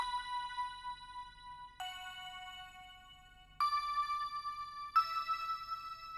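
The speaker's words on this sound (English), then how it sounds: "Then I added these bells. It's just a very subtle accent in the background of the beat." Soft bell tones accenting an angelic pluggnb beat: four sustained ringing notes, each rising slightly, quiet and alone over a faint low background.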